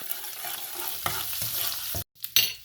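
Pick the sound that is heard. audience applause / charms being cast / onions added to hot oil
onions added to hot oil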